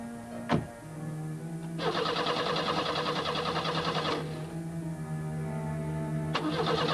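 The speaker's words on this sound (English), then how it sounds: "We went to start the car, and at first the car wouldn't start." A car engine on the Stocksbridge Bypass in Derbyshire cranks and catches after failing to start at first, then settles into a steady mid-pitched hum with a grinding, rattling texture, before a brief tick at the end.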